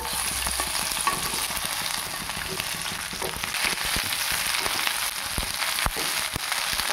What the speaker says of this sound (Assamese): এইখিনি গৰম হৈ গ'ল, মই এতিয়া ইয়াত ভেন্দিখিনি দি দিওঁ।